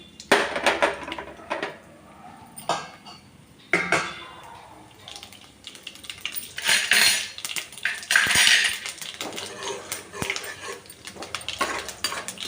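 Mustard seeds and chana dal tempering in hot oil for a South Indian dish, with repeated metal spoon clinks and scrapes against the pan over a light crackle, near and intermittent.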